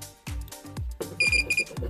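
DP-323AE counterfeit banknote detector with UV and magnetic checks emits a bright, steady electronic beep in two short bursts, heard over low clicking and the rustle of a note being passed through the machine.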